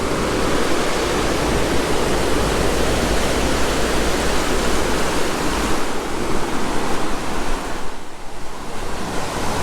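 Water rushing and churning out from the bottom of the Dam 14 lock gates, a steady loud broadband roar that holds unbroken for the whole stretch, close by.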